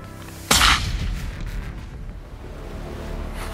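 A single loud rifle shot during a black wildebeest and blesbok hunt in the Free State, South Africa, a sharp close crack followed by a fading rumble in open countryside.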